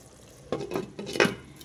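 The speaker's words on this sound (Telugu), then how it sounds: "ఇప్పుడు బూందీ వేసేస్తున్నా." Boondi drops into a hot curry in a pot, making a few soft splashes and brief sizzles with light clinks of the pot, close by and quiet over near silence.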